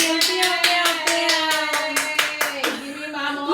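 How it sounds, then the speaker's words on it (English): A small group claps in a steady, even rhythm of sharp hand claps at close range, with musical tones sounding underneath. "Everybody clap for him."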